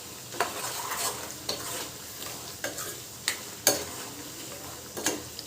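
Chili powder and salt fry in hot tempering oil for churumuri, a steady soft sizzle broken by several sharp scraping stirs of the spoon, close and moderately loud with no talking.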